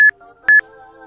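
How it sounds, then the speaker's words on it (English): Two short electronic beeps from Pokémon Emerald during a full-odds shiny hunt for Registeel, each a bright tone with a quick double pulse, the pair spaced about half a second apart over a faint background hum. "those are some beeps"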